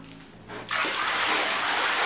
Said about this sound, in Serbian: I još jedna kanta.